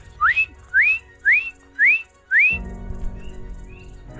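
A bird's rising whistled call repeats five times at an even pace, close and clear, then gives way to a steady low background hum, on a volcano hike in the Philippines.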